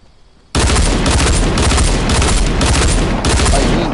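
Snorkel ops gameplay: sniper gunfire begins with a sudden, very loud burst of dense, continuous firing that stays intense and close, with distinct sharper shot peaks pulsing through the barrage.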